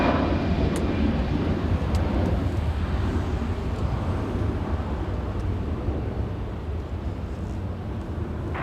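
Airbus A321 airliner engines at LAX, a broad, steady rumbling roar that stays loud throughout and slowly eases off toward the end.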